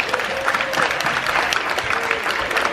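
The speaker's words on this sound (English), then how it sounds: "round of applause for them." Audience clapping at a school spelling bee, a steady, dense round of applause that carries evenly from start to finish with no break.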